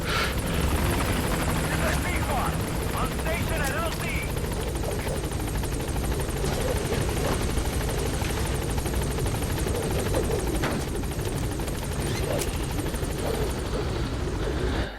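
Helicopter in the video game Metal Gear Solid V, a steady loud rotor drone running the whole time with game sounds and a voice talking over it.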